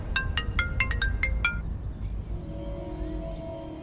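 A phone ringtone plays a quick series of bright electronic notes, then falls away into quiet room hum.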